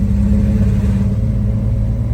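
An old, abandoned Mercedes car, just fitted with a swapped carburetor, rumbles steadily as it drives down the road, with a loud, continuous low engine drone up close and no voices.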